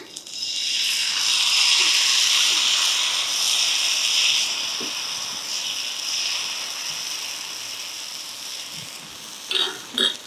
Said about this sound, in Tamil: இப்போ இந்த மாவை வந்து நம்ம எடுத்துகிட்டு சுழட்டின மாதிரி ஊற்றணும்